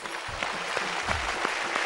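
Studio audience applause on a Telugu game show, a brief burst of clapping at moderate volume with some voices mixed in.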